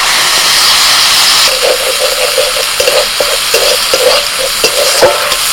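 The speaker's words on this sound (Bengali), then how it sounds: "এই যে ডালটা সাঁতলাচ্ছি" Lentils and spices frying loudly in a hot pan for a chutney, with a steady close sizzle and hiss under scraping stir strokes that grow more frequent midway.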